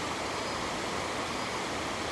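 Low Force on the River Tees cascades over a series of small falls, making a constant broadband rush of water that stays even and unbroken, with no talking.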